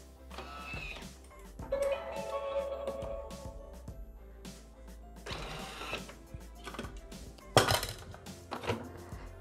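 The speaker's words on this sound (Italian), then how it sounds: "E facciamo impastare per 4 minuti in modalità spiga." A Thermomix kneads pizza dough for pan pizza with vegetables in its ear (spiga) mode, giving irregular mechanical clunks and clattering bursts with a steady hum beneath, fairly close and moderately loud.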